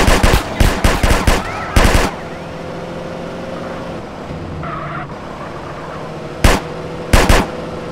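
Gunfire from a drive-by in GTA San Andreas, fired from a Daewoo Lanos car mod: rapid bursts of loud, close shots at the start, then a lull with engine sound, then two more short bursts.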